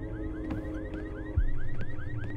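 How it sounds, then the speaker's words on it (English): A car alarm going off in a video game, looping rapid rising chirps repeated in a steady rhythm, fairly loud and alone with no talk. "I thought the mechanic had fixed the alarm problem, but apparently not."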